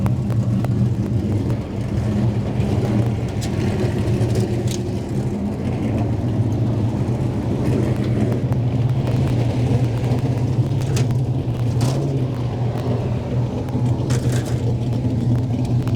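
A race car engine idles at a speedway, a steady low rumble held throughout with a faint rise in pitch partway through and no talk over it.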